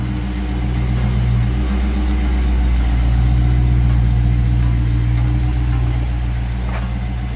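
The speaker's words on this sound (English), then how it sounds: "Neon car sound crazy." Dodge Neon engine idles close by with a steady, loud low rumble and droning hum that holds evenly throughout, with no speech over it.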